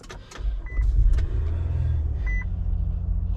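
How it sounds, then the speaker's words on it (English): An Infiniti QX60 SUV starting up: a short cranking burst, then the engine catches into a steady low idle rumble, with a couple of faint electronic chimes heard close by inside the cabin. "I'm gonna go start this vehicle."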